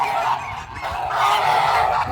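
Giant Kholmogory geese honk loudly and continuously at close range, overlapping calls from a flock with no talking.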